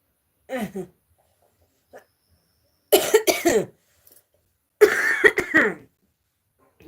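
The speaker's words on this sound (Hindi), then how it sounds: "राधे राधे बोलती हूँ तो खांसी आ चालू हो जाती है" Three separate bouts of coughing and throat clearing, close and fairly loud, with silent gaps between them.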